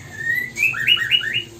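Young songbird chicks about 20 days old chirp in a simple breeding cage: a thin rising whistle, then a quick run of four bright tweets, close and clear.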